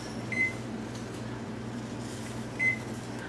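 Kitchen timer giving two short electronic beeps about two seconds apart, heard over a steady low hum from appliances while rice cereal is cooked in a home kitchen.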